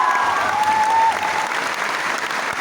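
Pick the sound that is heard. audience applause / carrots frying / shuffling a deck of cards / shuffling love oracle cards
audience applause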